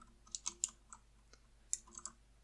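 Clicky blue-switch keys on an AULA F2012 mechanical keyboard are pressed in a few sharp, irregular taps, crisp and close with quiet pauses between them.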